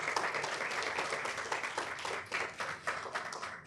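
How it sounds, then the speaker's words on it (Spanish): A live audience at a public conversation event claps steadily, warm and dense throughout with clear individual claps, moderately loud and close. "un fuerte aplauso para cada uno de ustedes,"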